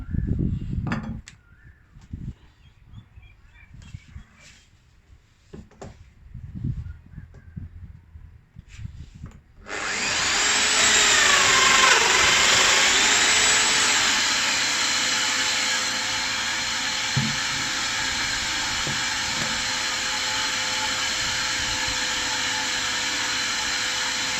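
Scattered knocks and handling of a wooden bathroom vent frame give way to a Festool Domino XL DF joiner starting with a loud, steady high-pitched motor whine that keeps running as it cuts mortises in the frame.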